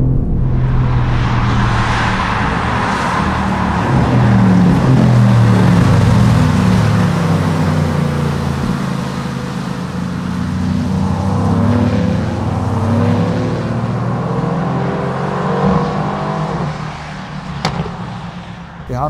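A Mercedes-AMG GT sports car engine roars and builds as it accelerates hard at full throttle from a standstill, a deep throaty rumble rising in pitch and holding strong before easing off.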